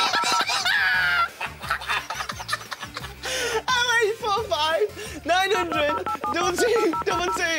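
Telephone keypad tones play during a kids' TV show, short beeping bursts mixed in with loud, fast shouting voices and chirpy effects.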